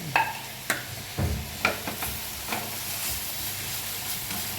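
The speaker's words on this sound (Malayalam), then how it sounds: "ഇളക്കണം" Shredded cabbage with cumin seeds and grated coconut sizzles in a hot pan while being stirred. A steady close frying hiss runs throughout, broken by irregular scraping clinks of the spoon against the pan.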